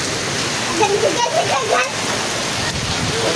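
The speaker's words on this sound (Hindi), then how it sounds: "बारिश आ गई मुल्तान फोर्ट जी माशाल्लाह बड़े ज़बरदस्त किस्म में।" Heavy rain pours in a dense, steady roar over the main bazaar at Multan Fort, with a voice speaking briefly over the downpour.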